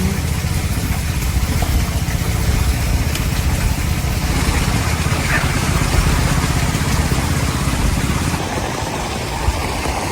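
A motorcycle engine rumbles steadily and close by beside a river for the whole stretch, a continuous mid-pitched drone with no clear rise or fade.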